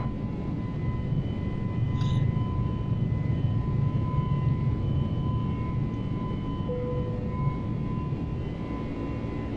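Airplane taking off and climbing out, a steady loud engine roar with continuous broadband rumble and a faint whine throughout, heard from inside the aircraft with no talk.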